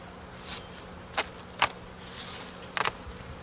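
Honeybees buzz around a strong hive in early March, a faint steady hum with a few brief closer buzzes as single bees fly past.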